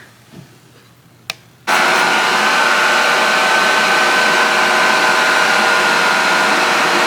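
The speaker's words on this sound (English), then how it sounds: "let's sit under the dryer." After a couple of faint clicks, a hair dryer switches on and runs with a loud, steady whooshing hum close by.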